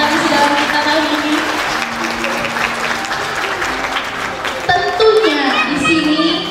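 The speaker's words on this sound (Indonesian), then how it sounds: "Boleh beri tepuk tangannya kepada peserta sidang kita kali ini." An audience at a Quran memorization (tahfizh) graduation claps steadily for the participants, a dense sustained applause with a voice speaking over it near the end.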